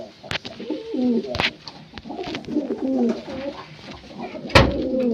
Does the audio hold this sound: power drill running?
no